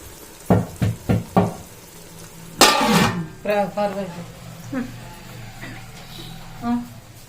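Gongura leaves frying in oil for a pickle, stirred in a pan: a few sharp scrapes, then a loud burst of sizzling and clatter, with a voice talking over the later part.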